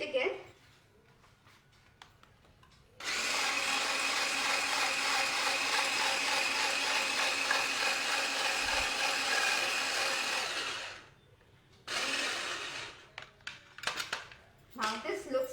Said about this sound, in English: now we'll whisk it again